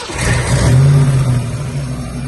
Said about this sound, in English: Got a Ford Mustang foxbody 302 HO motor. When your harmonic balancer is seeing better days, that's what it looks like.